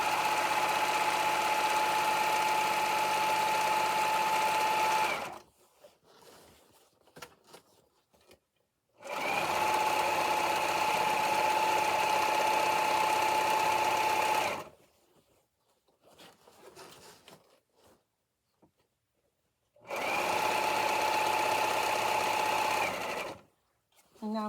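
A home sewing machine stretch-stitches the bias binding of an apron, three loud, steady whirring runs of about five seconds each, separated by quiet pauses.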